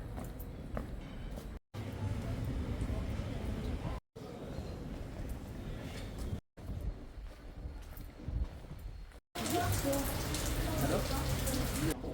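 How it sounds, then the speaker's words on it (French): Steady rain falls at Bonifacio, Corsica, a broad continuous wash of drops with wind buffeting the microphone, broken by a few brief silent gaps and swelling louder toward the end. "Il repleut"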